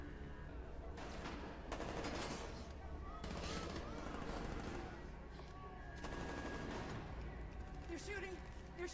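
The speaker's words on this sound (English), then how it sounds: "You're shooting! You're shooting at us!" Gunfire in a tense scene from The Last of Us TV episode, heard as rapid bursts and sharp shots that run through the whole stretch, with people talking and shouting over it.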